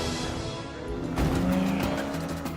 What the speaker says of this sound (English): Engine sounds like this are crucial in films like the recent Ford versus Ferrari movie.